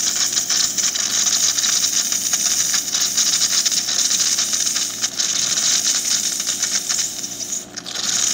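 A Jura S8 coffee machine with a faulty steamer gives off a steady, wet, weak steam hiss, close and continuous, with small sputters and clicks throughout.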